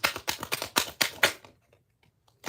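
A deck of tarot cards is riffle-shuffled up close, a fast burst of crisp fluttering slaps lasting about a second and a half before falling quiet.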